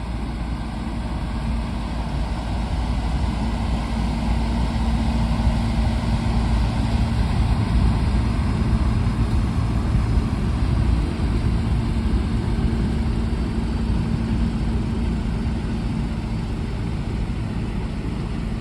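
Two Claas tractors towing loaded trucks run their engines in a steady, unbroken low drone with a constant hum, heard close and alone with no talk.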